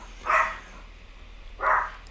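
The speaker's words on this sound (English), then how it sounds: "that's my Pomeranian barking right now" A Pomeranian barks twice indoors, two short, fairly faint yips about a second and a half apart over a quiet background hum.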